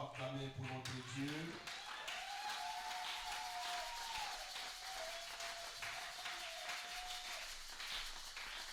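Church congregation at a French-language Sunday service claps and applauds in praise of God, a steady wash of many hands clapping in a large room, with a voice and sustained tones heard over it.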